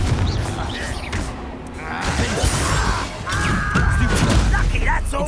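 Confringo blasting spell impacts in Hogwarts Legacy on PlayStation 5, loud crackling bursts and whooshing blasts in close succession amid dense combat noise.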